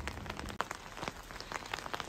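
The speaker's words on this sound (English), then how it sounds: "It is officially raining here in Monopoli." Steady rain patters down in a narrow stone alleyway of a historic Italian town, with a dense spread of close drops tapping and splashing on surfaces throughout, no voices.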